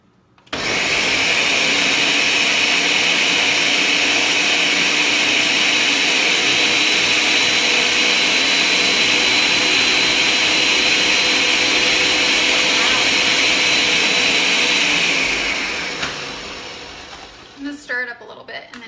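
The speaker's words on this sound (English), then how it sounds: "it's gonna get really loud for a second, but you're just gonna mix and blend all of this up" An electric mixer whirs loudly and steadily through red velvet cupcake batter, a constant motor drone lasting about fifteen seconds before spinning down, followed by a few faint clanks; no one speaks.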